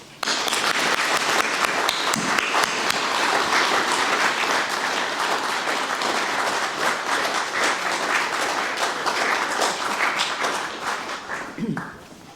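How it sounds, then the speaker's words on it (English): A large crowd at a funeral applauds continuously and loudly for about twelve seconds, with dense, even clapping that tapers slightly at the end. "And I'd like to give Netta a round of applause to thank her for all she's done for us."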